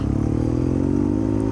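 Steady close engine drone from a BMW R nineT Urban GS motorcycle on the move, a low throbbing tone climbing gradually as the bike gains speed, with rushing wind and rattling underneath.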